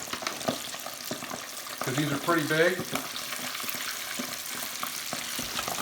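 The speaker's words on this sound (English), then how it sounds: "And that popping sound you hear is from the wetness of the chicken," Chicken wings frying in hot oil at about 375 degrees, a steady crackling sizzle with sharper pops from the wet chicken, and a brief spoken remark partway through.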